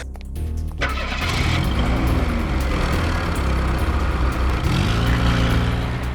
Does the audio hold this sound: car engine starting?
yes